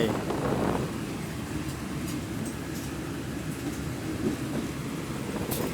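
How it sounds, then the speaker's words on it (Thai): Local train number 426 on the Surin to Chakkarat line in Thailand rolls into a station, giving a steady, low rumble with wind noise heard from on board, with no breaks or distinct clacks. "ตอนนี้กำลังจะเข้าสถานีรถไฟ"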